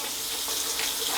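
Warm water runs steadily from a tap into a sink, a continuous close hiss and splash with no pauses, filling a bag of coconut coir.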